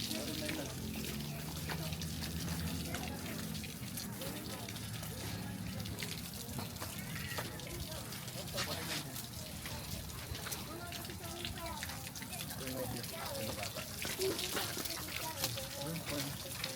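Water runs steadily from a shower at a swimming lesson, a continuous spray hiss under a child's and adult's voices talking nearby.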